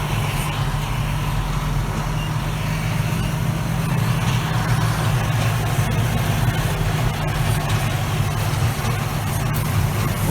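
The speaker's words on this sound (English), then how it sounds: "let's open the door, see if we can hear the tractor working" A farm tractor works at a steady, continuous low engine drone, heard muffled from inside with the door open, with no notable changes over the span.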